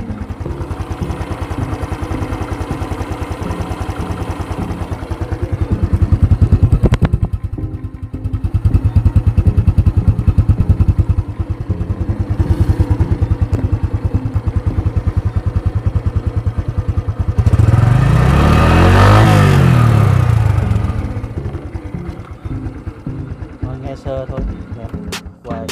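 Honda Future 2022 motorcycle engine running steadily at idle, close and loud, with a surge of revving partway through and someone talking over it.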